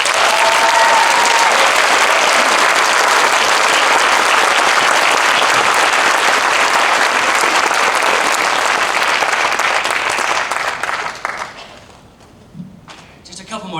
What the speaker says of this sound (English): please, one more round of applause for all of them.